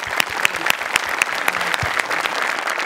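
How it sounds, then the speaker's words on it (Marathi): A studio audience at the Marathi stage comedy show Maharashtrachi HasyaJatra bursts into steady, dense applause, with sharp individual claps standing out against the continuous roar for the whole stretch. "जोरदार टाळ्या."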